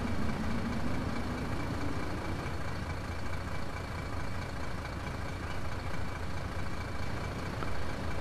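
A MAN bus engine idling, a steady low rumbling drone that holds evenly throughout, fairly close, with no voices.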